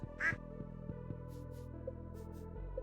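A Stardew Valley farm duck lets out a single clear quack near the start, over the game's steady background music and occasional soft chimes, with no talk.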